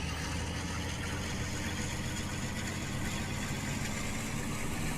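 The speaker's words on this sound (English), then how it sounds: "this engine is quite harsh by diesel loco standards" A diesel locomotive in Train Simulator Classic idles with a harsh, steady low rumble and constant mechanical vibration, loud and close, unbroken and with no talking.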